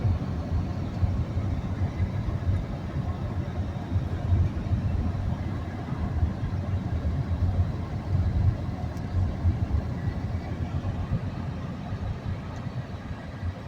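A steady, continuous hum of a car driving along a mountain road, with even engine and road rumble throughout and no voices.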